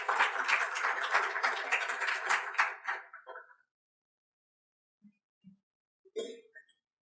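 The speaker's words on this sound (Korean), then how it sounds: "모두 박수로 환영해 주시기 바랍니다" Applause from a forum audience welcoming a speaker, dense clapping for about three seconds that tapers off, followed by near silence with a few faint knocks.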